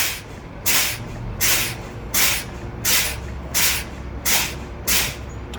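Truck air brake hissing in seven sharp, evenly spaced bursts as the brake pedal is repeatedly fanned during an in-cab inspection, each release loud and close over a low idling rumble, with no talking.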